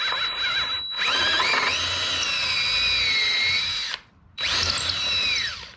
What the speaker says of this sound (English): we can drill the manhole.